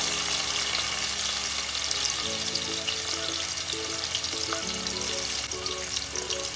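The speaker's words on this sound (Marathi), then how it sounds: "तेल बघा हलका हलका तापलेलं आहे तर आपण काय करूया याच्यामध्ये पहिला कांदा घालूया" Onion frying in lightly heated oil gives a steady, dense sizzle throughout, with a faint tonal hum running underneath and no voices.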